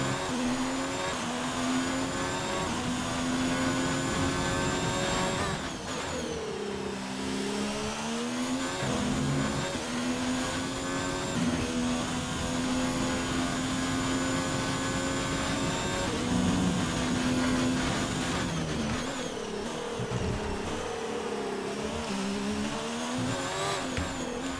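An F1 car engine screams around the Abu Dhabi Grand Prix circuit in the F1 2019 video game: a loud, continuous high-pitched whine that rises and falls through gear changes for the whole stretch, with no talking.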